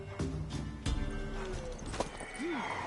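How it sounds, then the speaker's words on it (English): A horse in The Witcher 3: Wild Hunt clops its hooves several times, close, then gives a short whinny near the end over soft background game ambience. "Worthy of the best horse. The mare is yours."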